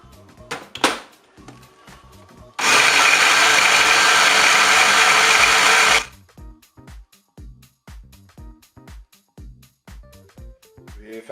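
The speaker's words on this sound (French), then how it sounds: "ajouter les champignons de Paris avec la chair des tomates et l'oignon. Et on va hacher à nouveau un petit peu." Food processor chops button mushrooms, tomato flesh and onion in a loud, steady whirring burst lasting a few seconds, with quieter kitchen knocks before and after.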